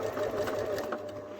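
Sewing machine stitching a seam through thick fabric layers on a toy bunny, a quick steady whirring chatter of the needle running close and even for a moment.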